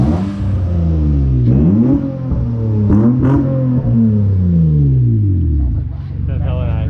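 A car engine revs through a deep exhaust in a series of rising and falling pulls, loud and close, its low tone swelling and dropping repeatedly while people talk and react over it.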